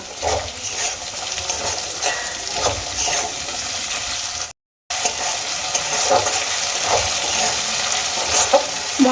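Green peas frying with onion and ginger paste in a pan for a Bengali mung dal with fish head, a steady close sizzle with scraping stir strokes throughout, broken by a brief silent gap midway.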